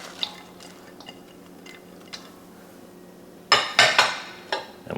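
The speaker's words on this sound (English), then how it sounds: "And let's give that a stir." Onions being stirred in a pot while cooking country style ribs, a few faint scrapes and clinks at first, then a burst of loud metallic clanks and scraping from the utensil against the pot near the end.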